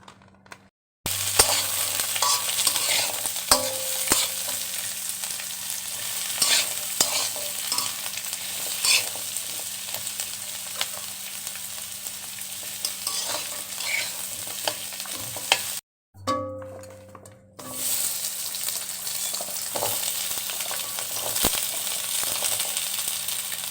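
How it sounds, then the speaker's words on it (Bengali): Onion and garlic frying in oil for a Bangladeshi bhorta: a steady, loud sizzle with scraping stirs runs throughout, briefly cutting out twice before resuming. "পেঁয়াজ রসুনটা বেজে নিব"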